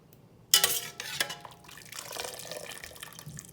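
Blanched garlic mustard greens drop into an ice water bath with a sudden close splash, followed by a softer stretch of sloshing and trickling water.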